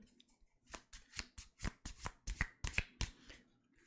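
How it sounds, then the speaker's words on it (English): A deck of tarot cards riffled and bridged repeatedly at close range, a quick series of crisp fluttering bursts with no voices. "You don't like the shuffling sound?"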